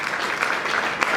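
A church congregation at a year-end service applauding, a dense continuous wash of clapping from many hands, fairly loud and close, with no clear voices.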